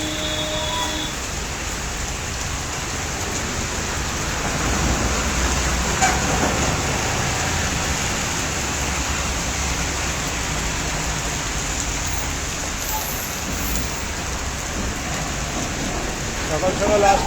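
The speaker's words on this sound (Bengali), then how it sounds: "সকাল সকাল আসলাম, দোকানটা খুললাম, এত বৃষ্টি, কাস্টমার নাই" Heavy rain pours outside a shop in the morning, a steady, dense hiss with a low rumble that swells slightly partway through and continues unbroken throughout.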